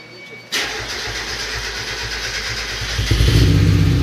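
A 1991 Mazda Miata engine cranks and catches after silence, then settles into a steady, loud idle that swells near the end.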